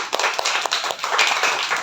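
Classroom pupils in a fourth-grade lesson clap for a classmate, a short burst of quick, fairly close, uneven hand claps lasting under two seconds.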